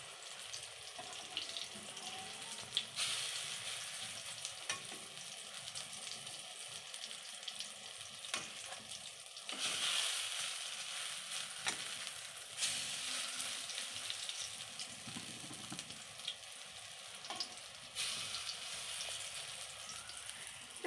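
Soybean fritters, shaped into small balls, fry in oil in a wok, giving a steady broadband sizzle that holds for the whole stretch, with a few louder bursts and faint scraping or clinking from stirring.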